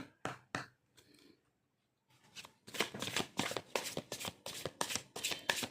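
A tarot card deck shuffled by hand, with a few quick riffles, a pause, then a rapid run of crisp, close card flutters and snaps.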